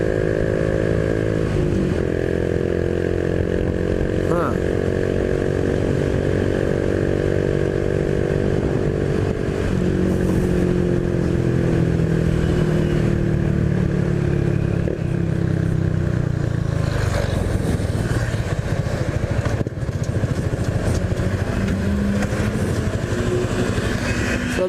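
A Honda Biz 125 motorcycle revs and accelerates with a steady, loud engine drone that rises and shifts in pitch through the gears, with a strange noise in the transmission, running continuously without speech.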